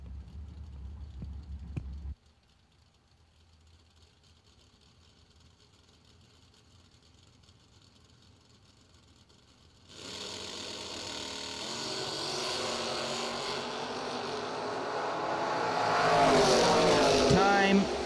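Bracket drag race with a Buick Regal and a first-generation Camaro: after a brief quiet stretch, loud engine roar rises abruptly and builds steadily as both cars launch and pull hard down the strip.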